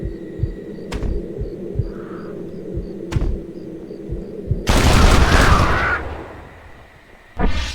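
Gunfire in Red Dead Redemption as birds are flushed near Chuparosa, Mexico: sharp, evenly spaced shots over a steady game ambience, then a louder burst of noisy blasts and flapping commotion that fades before one last sharp report.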